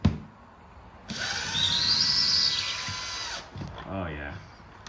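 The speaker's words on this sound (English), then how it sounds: "you wanna be sure where you're gonna be drilling" A power drill whines steadily for a couple of seconds, its pitch rising slightly, then stops, followed by a brief voice.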